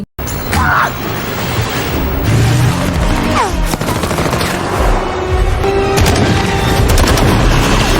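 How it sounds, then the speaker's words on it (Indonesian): Loud bursts of gunfire crack repeatedly over a dense rumbling din during a film chase with a motorbike and police car, with sharp shots scattered throughout and no pause in the chaos. "tembakan membuat motor Lepon ngempot dan menabrak mobil polisi"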